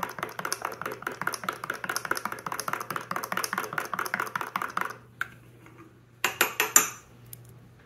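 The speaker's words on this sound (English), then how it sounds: "And we stir." A spoon clinks rapidly and steadily against a glass while stirring an orange citrus Metamucil fiber drink, about five seconds of close, even tapping, then a pause and a few final louder clinks.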